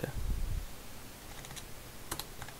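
A developer taps at a computer keyboard, producing a few soft, scattered key clicks that come in a short cluster near the end against a faint hiss.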